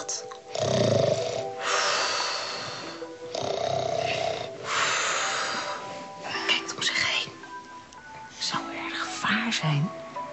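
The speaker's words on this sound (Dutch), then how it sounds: "Het lijkt er meer op dat iemand heel hard ligt te snurken." Loud, rasping snoring of someone sound asleep, in long repeated breaths with irregular snorts, mixed with other noises and close to the listener.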